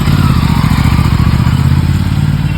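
An Aprilia RS457 motorcycle with a malfunction light lopes into a workshop, its engine close and loud, chugging in a steady, pulsing low rumble throughout.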